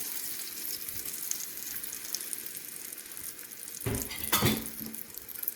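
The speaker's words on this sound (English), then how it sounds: "We'll add our mixture, egg mixture for our omelet." Egg mixture for a Western omelet poured into a hot pan, a steady close hiss that swells into a louder, sudden burst of sizzling as the liquid hits the metal.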